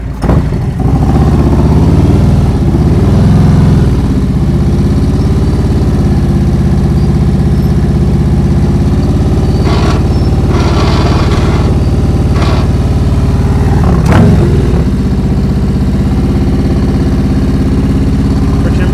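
A motorcycle rides slow tight circles at walking pace in a practice lot, its engine idling steadily and loud throughout with brief throttle blips, as if near a passing rider.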